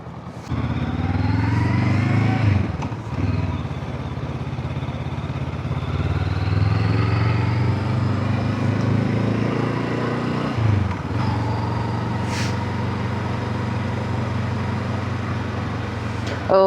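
A Honda CL500 motorcycle's engine drones steadily while riding, with a continuous mid-pitched hum and a couple of brief dips, as if from gear shifts, heard close up with wind noise.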